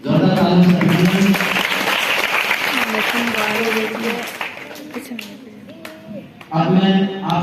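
Enthusiastic audience applause welcoming members of a school quiz panel, a steady dense clatter filling the space while voices and tonal sounds rise over it, then a fresh burst of clapping near the end.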